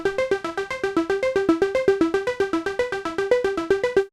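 A bright Halion Sonic synth plays a fast, evenly pulsing arpeggio, notes bouncing up and down in a tight repeating pattern for several seconds before stopping.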